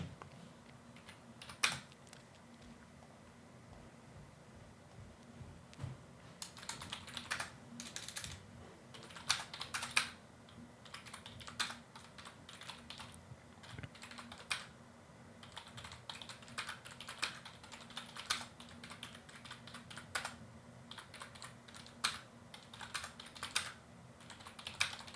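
Typing on a computer keyboard while working through a Python pandas data analysis, with steady bursts of soft clicking keystrokes and brief pauses, fairly close and alone with no talk.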